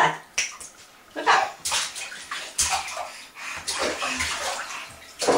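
A young child splashes in bathtub water, with irregular slaps and sloshing bursts coming close and loud, some sharp and others rolling, against a quiet indoor background.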